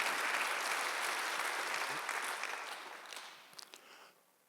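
A church congregation claps together during a Sunday worship service. The applause starts full and steady, then thins and fades out in scattered claps toward the end.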